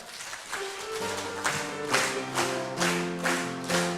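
A church congregation applauds from their seats to welcome new members, a moderate patter of clapping over sustained organ or keyboard chords, a few seconds long.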